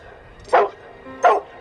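A dog in a movie barks twice over a surround sound system, two sharp woofs about three quarters of a second apart, fairly loud against a quiet background.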